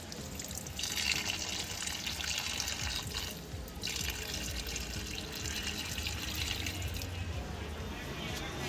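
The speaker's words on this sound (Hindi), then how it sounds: "पहले तो इधर पानी डालना है" Water is poured out onto something outdoors at dusk while making potato chips, a continuous splashing rush that briefly dips midway, with faint background sounds throughout.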